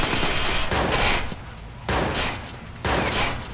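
Gunfire in the video game Watch Dogs comes as dense bursts of rapid shots, three loud volleys separated by short pauses, with no voices over them.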